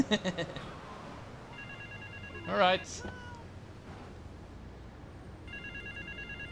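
Phone ringing in the video game Grand Theft Auto III, a repeated electronic trill in short bursts amid game ambience, with a brief spoken word and other game sounds between the rings.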